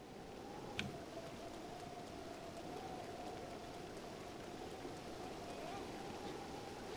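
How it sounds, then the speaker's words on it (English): Steady rain in the game Zelda: Breath of the Wild, falling over a watery domain: a continuous, even hiss and patter with a low mechanical hum underneath and one brief sharp tick early on. "Why is the divine beast sending a plague of rain to us and making the domain suffer?"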